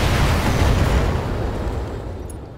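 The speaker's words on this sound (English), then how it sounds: "Firing a full salvo." A mech unloads a full weapons salvo in BattleTech, a loud dense roar of explosive fire that rumbles on and slowly fades.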